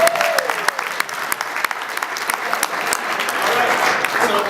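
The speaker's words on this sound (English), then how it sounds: "let's give them both a round of applause" Audience applause at a live sound-effects show in San Francisco, with dense clapping over crowd noise that stays steady throughout. Loud, sharp individual claps stand out, and a short whistle is heard near the start.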